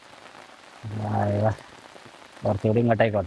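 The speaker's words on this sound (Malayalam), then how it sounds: "നല്ല മഴ പെയ്യുന്നുണ്ട് കേട്ടോ" Heavy rain pours down during a fishing outing, a steady low hiss running beneath a man's brief spoken remarks.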